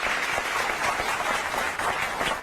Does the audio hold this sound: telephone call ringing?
no